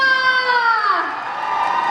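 Audience at a cover dance contest in a shopping mall letting out high-pitched screams and cheers, a shrill, wavering burst that swells briefly and then settles into a sustained crowd roar.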